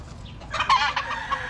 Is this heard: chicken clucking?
yes